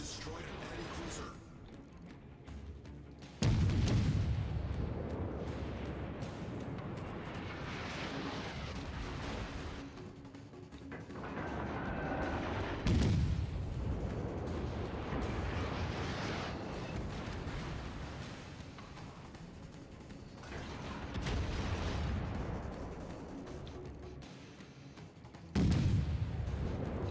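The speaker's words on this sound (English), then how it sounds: "Should be a good final salvo for him there" Warship artillery salvos boom in World of Warships naval combat, with several loud broadband blasts at intervals over a steady rumble of battle noise, while a voice talks throughout.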